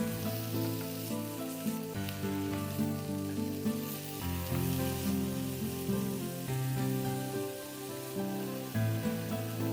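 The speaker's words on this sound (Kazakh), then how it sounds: "Екі жағынан шамамен 2-3 минуттай қуырып аламыз." Chicken pieces fry in a hot pan, giving a close, steady sizzle and crackle that swells and eases slightly throughout, with no one talking.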